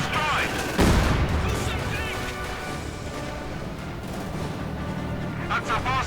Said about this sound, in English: Well done with light machine gun and anti-tank rifle.